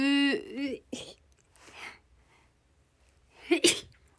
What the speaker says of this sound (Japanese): 待ってくしゃみ出そう